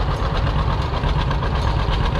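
A 1974 Cub Cadet garden tractor engine runs at a steady, throbbing chug as it rolls by in a lakeside parade, close and fairly loud with no one speaking.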